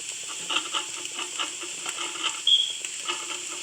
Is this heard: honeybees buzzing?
no